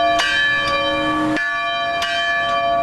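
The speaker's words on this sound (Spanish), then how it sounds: "en punto de las 11:30, se realizaron unos campanazos" A church bell tolls several times in slow succession at a memorial in Uvalde, each strike clear and resonant, with a sustained ringing tone between strikes.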